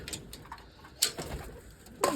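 Domestic racing pigeons coo softly at close range in a village loft, a few low throaty calls repeating with small rustles and faint bird noises around them.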